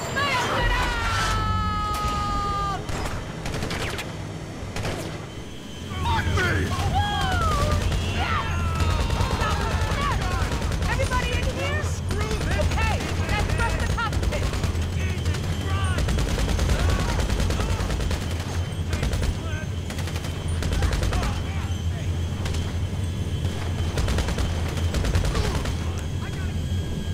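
Rapid bursts of automatic gunfire in a GTA Online mission, continuous crackling shots and sustained fusillade under game sound and brief speech.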